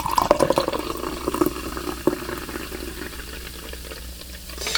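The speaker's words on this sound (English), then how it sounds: "let's pour it out" GNC Mad Pony orange mango energy drink is poured into a glass, making a close, fizzy splash that settles into a steady, softer hiss of carbonation.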